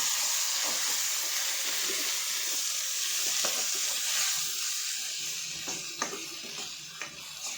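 Chopped tomatoes sauté with ginger and garlic in a pan, a steady close sizzle and hiss with occasional stirring scrapes and light clicks throughout.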